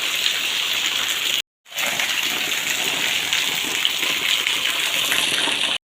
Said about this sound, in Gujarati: બે દિવસથી જોરદાર વરસાદ ચાલુ છે અને વરસાદ પણ ધોધમાર પડી રહ્યો છે